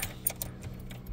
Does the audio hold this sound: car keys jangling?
yes